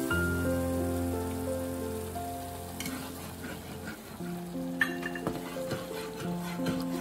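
Coconut milk simmering with spices for a Bengali hilsa malai curry, giving a continuous bubbling sizzle with occasional sharper pops and clinks, set against steady sustained tones.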